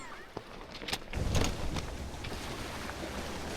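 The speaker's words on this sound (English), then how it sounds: "Wind's really picked up." Strong wind rushes and buffets around a small sailing yacht at sea, a broad continuous roar with gusty swells and water splashing.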